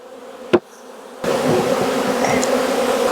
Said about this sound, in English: Look at all those bees right there